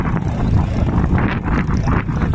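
Strong wind buffeting the microphone at a townhouse construction site in Cebu, Philippines, a loud continuous roar with gusty surges and no voices.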